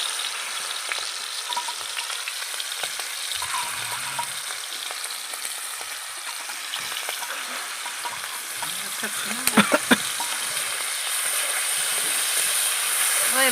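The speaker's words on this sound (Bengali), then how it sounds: "এবার চিংড়ি মাছগুলি ভেজে নেবো।" Prawns fry in hot oil for a pumpkin-greens curry, giving a constant close crackling sizzle with a few sharp clatters of a utensil partway through and faint talk in the background.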